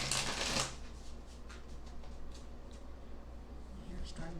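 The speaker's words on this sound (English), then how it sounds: "See if I can't get these cards mixed up to the point where one will pop out for" Tarot cards being shuffled by hand in a regular shuffle, a dense riffling burst at the start, then softer scattered card flicks over a low steady hum.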